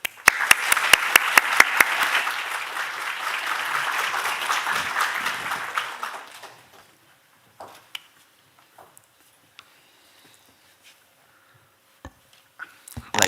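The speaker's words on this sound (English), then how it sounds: "Please welcome him with me with a round of an applause." Audience applause at an international medical congress, a steady roar of clapping for about six seconds that fades to scattered isolated claps and near silence.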